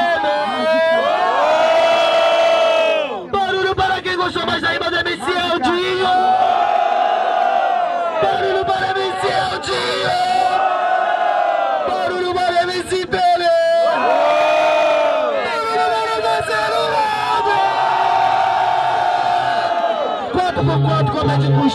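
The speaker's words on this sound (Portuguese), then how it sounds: "Barulho para quem gosta mais da rima do MC Pelé" A crowd at a street rap battle in São Gonçalo, Brazil, roars and cheers loudly in sustained waves of shouting and whooping, packed close around the listener with only brief dips.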